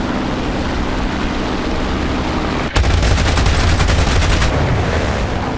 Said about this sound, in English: The guns on this thing are really devastating.